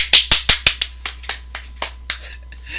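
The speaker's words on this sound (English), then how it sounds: "Give him a round of applause, guys." A single person claps a short round during a wrestling review broadcast, about a dozen sharp, close hand claps that start strong and gradually weaken and slow.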